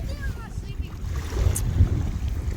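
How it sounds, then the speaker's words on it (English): Wind buffeting outdoors on a walk near a campsite, low rumbling gusts that swell and ebb, with a voice talking faintly. "We're getting too much wind, of course"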